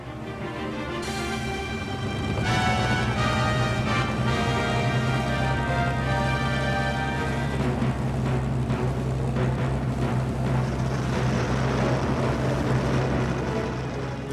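Japanese carrier aircraft taking off from a carrier deck, a continuous loud propeller-engine drone with rising and shifting tonal whine, steady and dense throughout.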